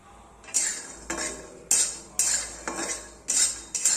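Salted peanuts being stirred and roasted in a pan, a spoon scraping and clattering against the metal in repeated bursts about every half second to second, close and fairly loud with no voices.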